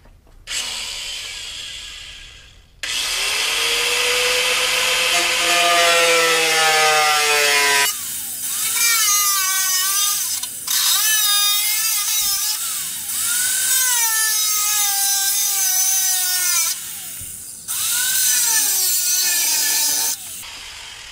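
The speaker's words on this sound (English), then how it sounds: "Cut-off wheel here. We're going to try to cut the Jeep." A cut-off wheel slices into a Jeep TJ Wrangler fender, a loud, continuous high-pitched metallic screech with shifting, wavering pitch, broken by a few short pauses as the cut restarts; no voices.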